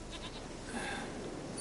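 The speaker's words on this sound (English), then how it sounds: "Here, goat." Goat bleating in the open world of The Witcher 3, a stubborn horned goat nicknamed Princess, heard as a soft, fairly distant cry over steady ambient game background noise.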